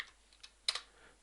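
A few light keystrokes tap on a computer keyboard as a number is entered, a couple of quiet isolated clicks followed by a quick closer pair, close up and otherwise quiet.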